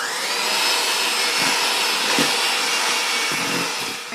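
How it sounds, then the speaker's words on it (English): Electric mixer whirring steadily as it beats ginger snap dough with a lightly beaten egg, a loud continuous motor drone with slight shifts in load and no talking. "And then turn back on our mixer."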